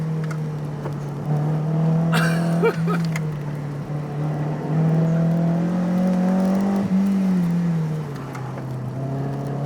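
A car driven fast during street racing on mountain roads in Gunma, Japan, heard from inside, its engine holding a loud sustained drone that rises and falls with revving and shifting.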